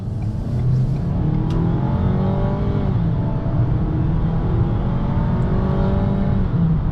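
A 2024 Ford Maverick XLT FX4 pickup accelerates hard, its engine note rising steadily through the gears in a loud, continuous in-cabin drone with road noise underneath.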